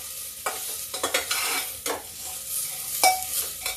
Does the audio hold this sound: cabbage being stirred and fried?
yes